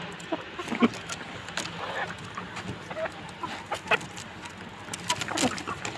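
Hens cluck in short, scattered bursts over a steady murmur of background noise, fairly close and moderately loud.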